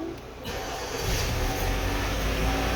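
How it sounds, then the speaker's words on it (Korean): A car engine cranks and catches just after a battery replacement, its low rumble rising to a steady, fairly loud run that holds through the rest of the moment. "시동 걸게요"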